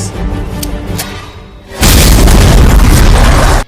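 After a quieter stretch of rumbling sound, a sudden massive bomb blast near a shop erupts and roars loudly for nearly two seconds, then cuts off.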